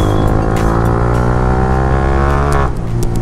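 A Yamaha R15M motorcycle being ridden, its engine a loud, close, steady drone with layered harmonics, briefly dipping near the end as the throttle eases.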